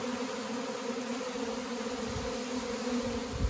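A honey bee swarm in the fall fills the air with a steady, even buzzing hum from many bees, constant and moderately loud throughout with no voices.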